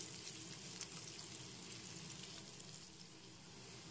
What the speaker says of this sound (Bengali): গাজর কুচি, সাথে পেঁয়াজ কুচি। এখন একটু নেড়েচেড়ে ভালো করে ভেজে নিচ্ছি।